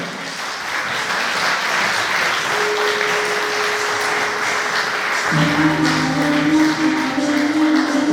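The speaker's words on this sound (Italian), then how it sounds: "Raffaella Leone, un applauso!" A crowd applauds steadily and loudly throughout at a beauty pageant awards ceremony, with a sustained tone and some music entering partway through.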